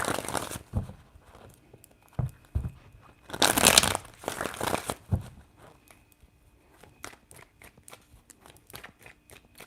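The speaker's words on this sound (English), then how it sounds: "Three shuffles." Tarot cards are shuffled by hand in a few quick riffling bursts, the loudest a dense papery rush in the middle, followed by lighter scattered card snaps and ticks, close and without talk.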